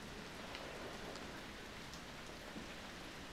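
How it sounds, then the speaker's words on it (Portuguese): Heavy rain falls outside as a dense, steady hiss of drops with no breaks, heard fairly faintly as if from indoors. "Tá mó chuva lá fora."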